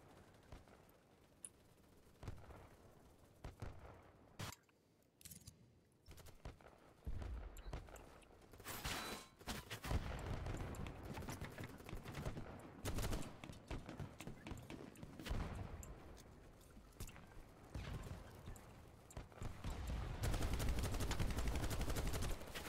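Faint, scattered video game gunfire, with bursts of shots growing denser and louder toward the end over a murky, rumbling background.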